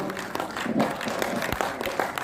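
Audience applause at an All India Mushayera poetry recital in Khed, Ratnagiri, a dense steady patter of many hands spread through the hall with a voice briefly over it.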